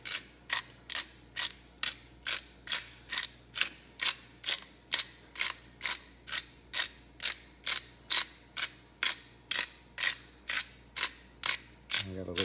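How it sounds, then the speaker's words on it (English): A pepper mill grinds coarse black pepper over sausage gravy, producing about two dozen evenly spaced, crisp ratcheting clicks, close and alone. "I got a little bit of a coarse grind on it. A little pepper."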